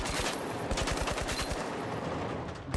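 Gunfire on the weapon range in the video game The Finals: a rapid automatic burst of loud, closely spaced shots, a brief pause, then another sustained burst, with no talking.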